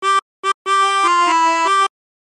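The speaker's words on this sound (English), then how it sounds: "And practice this until you end up with something that sounds like this." Opening phrase of The Battle Hymn of the Republic on a 20-hole tremolo harmonica: two short notes, then a longer sustained line sliding through a few pitches, played solo and clear with a warbling reedy tone.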